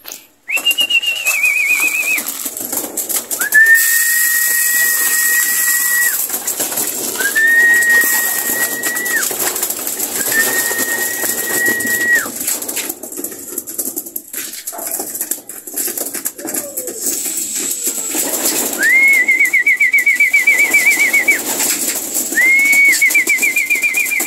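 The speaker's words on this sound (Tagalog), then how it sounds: "Ngayong araw na to guys, patukain na lang natin yung ibon natin." Racing pigeons at feeding time give a string of clear, whistled calls, each a sustained note about a second or two long with short pauses between, close and loud over faint background hiss.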